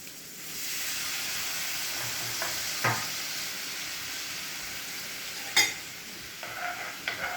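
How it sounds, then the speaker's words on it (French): Sautéed shallots are deglazed with white wine in a pan, giving a steady broad sizzle and steamy hiss with a few sharp clinks and scrapes of a utensil on the pan, no voices. "Une fois les échalotes revenues, on vient déglacer au vin blanc"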